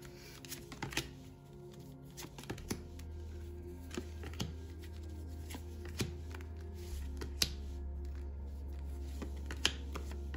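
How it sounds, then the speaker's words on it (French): Tarot cards shuffled and drawn from a deck, with a steady run of soft papery flicks and snaps close up over a low constant hum, no talk. "Je vais les prendre dans le paquet devant vous."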